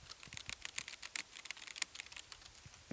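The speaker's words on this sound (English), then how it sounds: "How about the loudest key on this keyboard? Spacebar." A computer keyboard is typed on in a quiet room with rapid, irregular clicks and clacks, close to the microphone and alone, with no talk.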